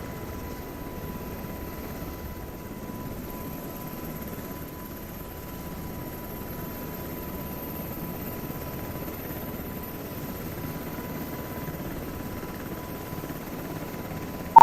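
A UH-60M Black Hawk helicopter slowing down as it approaches a base runway for landing, heard as a steady, even engine and rotor drone with a faint continuous whine, unchanging and without voices.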